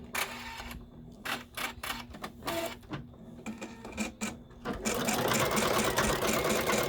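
An embroidery machine sewing a second stitch in red thread around fabric and stabilizer in the hoop: loud rhythmic mechanical stitching bursts up close, then a steady continuous whirring run toward the end.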